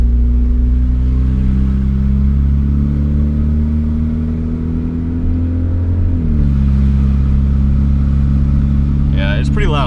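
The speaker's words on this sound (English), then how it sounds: "The exhaust is pretty loud." A cheap used Honda Civic with a loud exhaust drives by close, its deep, steady engine rumble droning throughout and shifting in pitch partway through.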